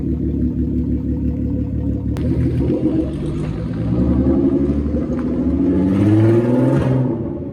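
Volkswagen Caddy MK1 fitted with a VR6 3.2 engine accelerating on a wet road, a steady low rumbling drone that swells in pitch and loudness toward the end, heard continuously from inside the car with no talking.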